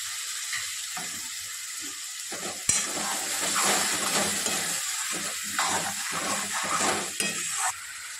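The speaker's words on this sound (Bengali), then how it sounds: "সামান্য মশলা ধোয়া জলটা দিচ্ছি।" Spice-rinsing water poured into jackfruit masala frying in a pan, giving a loud burst of sizzling with stirring scrapes that continues steadily, close by and without speech.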